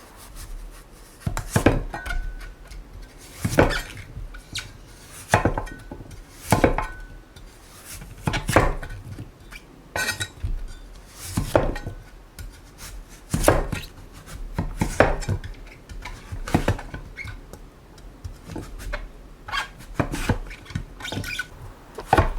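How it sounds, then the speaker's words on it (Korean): Autumn radish is cut into rough chunks for seokbakji kimchi, with loud, close knife chops thudding on a cutting board in irregular bursts. Light clatter of dishes mixes in. "석박지는 정사각형이 아니라 대충 숭덩숭덩 썰어주세요."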